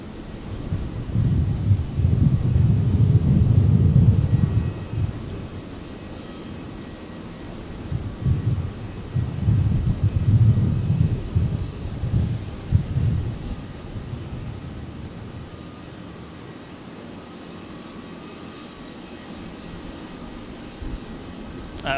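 Beechcraft King Air 350 turboprop at Brisbane airport, a steady low rumble that swells loudly for the first few seconds, surges again around ten seconds, then fades into buffeting wind noise.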